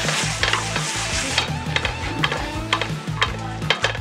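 Tomatoes added to garlic and onion sautéing in a pan sizzle steadily, with repeated stirring scrapes and clinks of a utensil against the pan close by.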